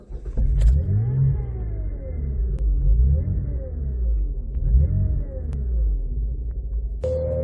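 A 1997 Mitsubishi Legnum VR-4 with a twin-turbo V6 drives along, its engine rising and falling through several loud, close revs as it accelerates and shifts, with a steady road roar underneath throughout.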